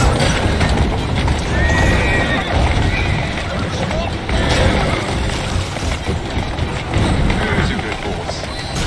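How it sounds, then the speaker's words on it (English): A horse in the video game Assassin's Creed Syndicate whinnies and its hooves clip-clop at a run, close and loud over constant game noise while a voice talks. "Who's a good horse? You are."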